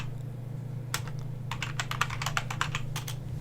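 Close, crisp keystrokes type a book search into Amazon on a computer keyboard. After a hesitant few taps comes a quick, irregular burst of clicks over a steady low hum.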